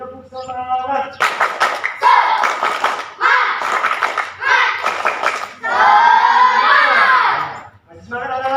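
A class of children performs the rhythmic "tepuk semangat" spirit clap in a school lesson, with several loud, close bursts of patterned handclaps mixed with chanting young voices, ending in a sustained group shout.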